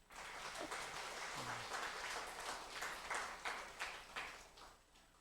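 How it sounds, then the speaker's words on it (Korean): A church congregation at a Sunday worship service applauds, broad clapping that swells in and holds steady, then breaks into a few fading separate claps near the end, heard at a distance and fairly quiet. "박수 한번 해주십시오"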